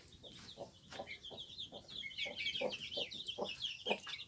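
Newly hatched chicks peep in rapid high chirps, overlapping and continuous, with soft low clucks pulsing underneath at a steady rhythm.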